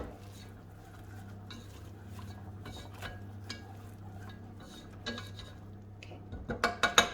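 Flour being stirred into melted butter in a pan over low heat for a béchamel sauce, with a steady scraping stir under a low hum, then a few louder clinks of utensil against pan near the end.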